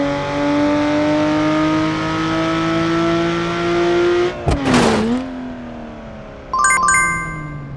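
A Porsche 718 Cayman in a crash-test driving game holds a steady, loud engine drone that rises slowly in pitch, breaks off in a sharp crunching impact, then returns with a brief metallic clatter.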